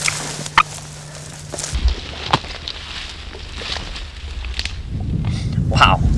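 Wild turkeys on the roost at dawn on an opening-day hunt, a few sharp gobbles rising over steady ambient rustle and wind, moderately close and fairly loud.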